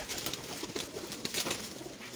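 Pigeons at a loft in Sheikhupura, Punjab, including a prized corner-bred bird, coo softly and repeatedly, a low murmuring chorus with scattered brief calls against background noise and no talking.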